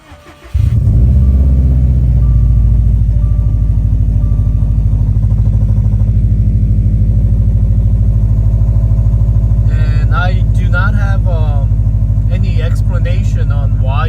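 A straight-piped car engine cold starts with a sudden loud burst, then settles into a deep, steady, rumbling idle that stays close and loud, with someone talking over it toward the end.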